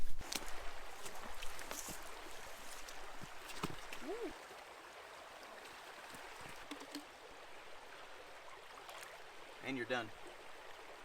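A creek in a Texas forest flows with a soft, steady trickle and gurgle beneath footsteps, rustling and a brief exchange of speech.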